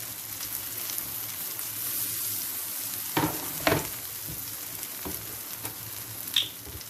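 Vegetable köfte fry in oil in a pan, giving a steady, close sizzle with a bright hiss. A few sharp clacks of utensils land near the middle and end. No one speaks.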